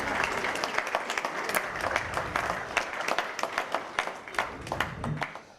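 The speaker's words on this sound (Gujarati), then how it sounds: "આ બાજુથી વધારે તાળીઓનો અવાજ આવે" Audience applause at a lamp-lighting ceremony during a community matchmaking event in a hotel hall in Malad, Mumbai: dense, steady clapping from a crowd, lasting several seconds with sharp individual claps standing out.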